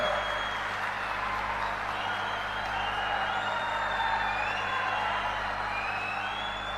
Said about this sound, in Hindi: दादा अवाड़े जी के लिए जोर से ताली बजाना जरा